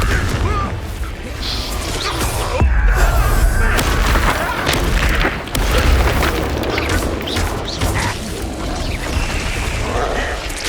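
Confringo fire spell explosions in the Hogwarts Legacy video game: repeated booming blasts and crashes over a dense battle din, with brief voice fragments mixed in.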